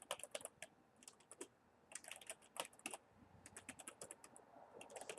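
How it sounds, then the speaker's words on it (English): Someone types an email address on a computer keyboard, quick bursts of crisp close key clicks with short pauses between runs, quiet and alone. "Type in an email address."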